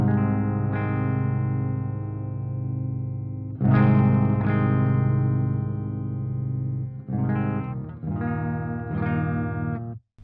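Electric guitar played through a Mesa Dual Rectifier Reborn Multiwatt amp in 100-watt mode with the gain raised, heavily distorted sustained chords ringing out, then fresh strums around four seconds in and again near seven and nine seconds.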